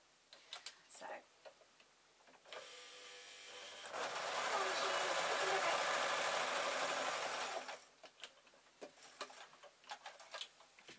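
A domestic sewing machine stitching a tote bag seam, starting with light ticks and clicks before a steady whirring run of about four seconds, then stopping into soft mechanical taps and handling noises.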